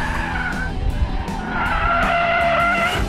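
A 475-horsepower V8 sports car styled after 1960s and 1970s American classics skids on a race track: loud, close tire squeal over a roaring engine that swells in the second half.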